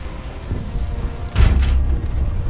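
A single heavy tank cannon boom in War Thunder, a sharp blast with a rumbling tail over steady low battle noise.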